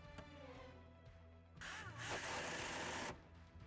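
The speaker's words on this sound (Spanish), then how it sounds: "yo uso un tornillo autorroscante para colocar el cable de masa" A self-tapping screw is driven with a power driver into the body of a 2023 Citroën C3 to fix a ground cable, giving one steady, close, high-pitched whir of about a second and a half, preceded by faint workshop noise.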